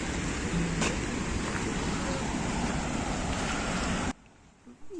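Water rushes at Pochera waterfall, a continuous broadband roar with some wind buffeting, cut off abruptly near the end.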